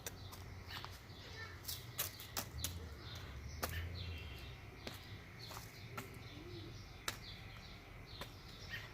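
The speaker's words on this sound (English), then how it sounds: "You guys hear some bird sounds that's coming from here." Faint bird calls, soft cooing and scattered chirps, come from near a nest outdoors, with sharp clicks and a low background murmur throughout.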